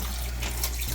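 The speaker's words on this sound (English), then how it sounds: "here we're just gonna run some water in it just to cool it down" Tap water runs steadily into a pot of cooked squirrel meat to cool it, a close, even splashing rush with a low rumble underneath.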